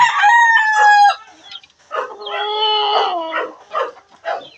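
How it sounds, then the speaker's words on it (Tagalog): A broody hen returning to her nest gives a drawn-out, squawking call followed by a series of shorter clucks, close and loud. "pabalik na sa pugad yung ating inahin"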